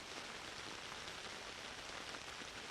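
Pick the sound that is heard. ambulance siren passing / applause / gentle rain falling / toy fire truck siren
gentle rain falling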